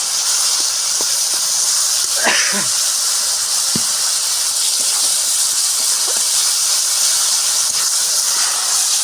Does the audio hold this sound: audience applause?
no